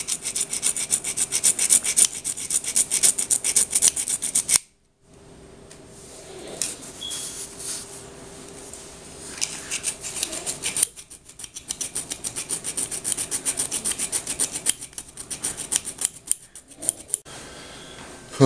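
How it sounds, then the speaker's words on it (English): Hand file rasping across soft rivets on an RC rock armor bumper, a close, repeated scraping that stops briefly a few times between strokes, with no talking. "Really soft, really easy. Just put a little file to them."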